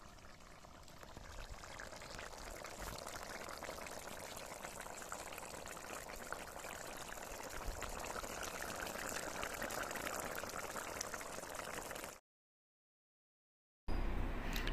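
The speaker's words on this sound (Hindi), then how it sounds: "अब मैं थोड़ी देर के बाद यहाँ पे पानी डाल दिया चिकन को पकने के लिए" Water poured into a pan of frying chicken at an outdoor jungle picnic, a steady loud hiss and rush that holds for about twelve seconds, then cuts briefly to silence before resuming.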